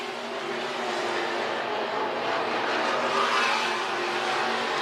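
Stock cars race at Crawford County Speedway, a steady, loud roar of engines lapping the dirt oval with continuous engine drone throughout and no talk.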